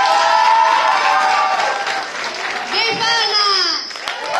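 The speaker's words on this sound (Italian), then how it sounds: "Io dirò il nome di uno di questi simboli e voi lo voterete col vostro applauso." Audience applause at a Christmas school play in Italy, a crowd clapping steadily throughout with excited voices and shouts mixed over the clapping.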